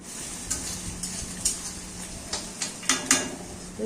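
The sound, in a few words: chopped onions frying with tempering spices, being stirred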